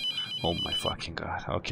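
A telephone rings in the horror game The Mortuary Assistant, its steady high tone running throughout under a startled man's speech.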